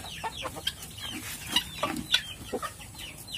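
Siamese chickens cluck and chatter close by in a short, busy burst of overlapping calls, with no talking.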